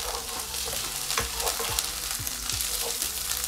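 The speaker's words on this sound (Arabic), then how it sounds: "نحمس الثوم عندنا" Garlic frying in olive oil in a pan, a steady close crackling sizzle with occasional soft scraping taps of a stirring utensil, no voices.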